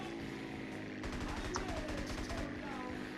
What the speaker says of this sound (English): Got some very good shots into him there.